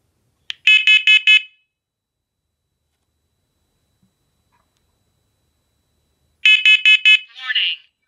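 A First Alert SC7010BVA smoke alarm gives two groups of four sharp, piercing beeps separated by silence; a synthetic voice message follows the second group.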